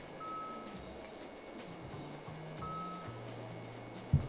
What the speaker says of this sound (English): You can hear the buzzing and the beeping of the charger.